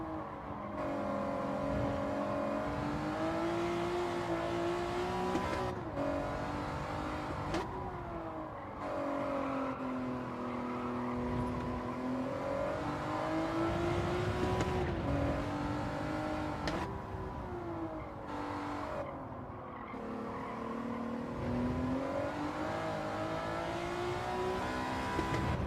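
A race car engine in a racing video game revs and drops repeatedly as it accelerates out of corners and brakes into them, a steady high whining drone that rises and falls with gear changes.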